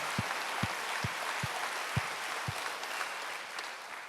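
A church congregation applauds during a Wednesday worship service: a steady, dense wash of clapping fills the room for the whole stretch, with a few soft low thumps near the start.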